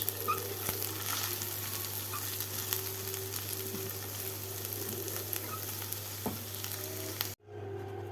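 Bread sizzles and fries steadily in a pan, a continuous close crackle with faint stirring scrapes, cutting off abruptly near the end.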